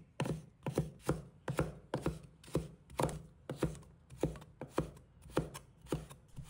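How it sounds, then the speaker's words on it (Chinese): A knife chops carrot into thin, even strips on a cutting board, with about fourteen crisp, evenly spaced knife strikes at a steady rhythm, close and clear with no talking. "接着把它切丝，切出的胡萝卜丝粗细尽量一致"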